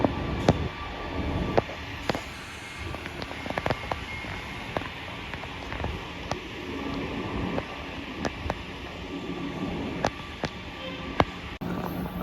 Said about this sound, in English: Alright, everybody, here comes the metro.